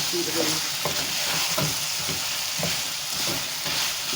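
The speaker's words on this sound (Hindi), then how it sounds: "आलू को अच्छी तरह से मिक्स कर देंगे" Spiced potatoes stirred and fried in a pan for aloo gobi, a steady loud sizzle with repeated scraping strokes of the spoon throughout, no voices.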